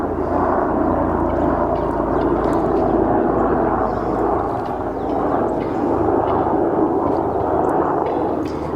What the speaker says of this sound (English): Sorry about that helicopter there.